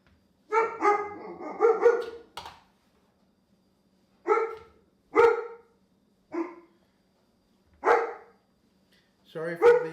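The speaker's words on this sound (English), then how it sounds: "Sorry for the dog noise" A pet dog barking indoors in a home kitchen in the north, several loud, close bursts of barks and yips spaced out with quiet gaps between them.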